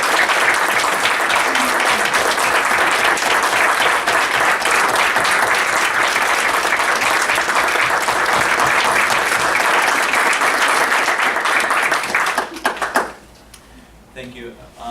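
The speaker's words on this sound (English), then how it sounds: "can we also give Erin and Mel a round of applause for all their time and energy they put?" An audience at a town board meeting in Plattsburgh breaks into sustained, loud applause lasting about twelve seconds before tapering off into scattered claps and quiet.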